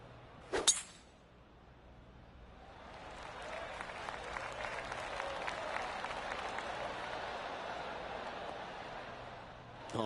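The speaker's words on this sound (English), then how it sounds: "Oh, golf clap." Polite golf-clap applause from the gallery in the video game PGA 2K25, rising after a sharp club strike and holding as a steady smattering of clapping for several seconds at moderate volume.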